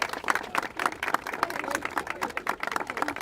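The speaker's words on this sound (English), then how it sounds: "Give them a round of applause." Scattered, thin clapping from a small audience at a congressional speech honouring abortion survivors, uneven individual claps with some murmur and voices underneath.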